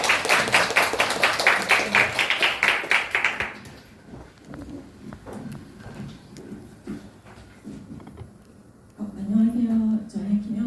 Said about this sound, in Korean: 우리 나오실 때 큰 박수로 환영해 주시면 감사하겠습니다.